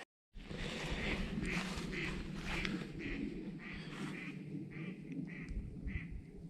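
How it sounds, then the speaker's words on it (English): Ducks quack repeatedly in a wet pasture beyond a hill, a string of faint, distant calls over a steady outdoor hiss, with no talk. "The ducks are in there."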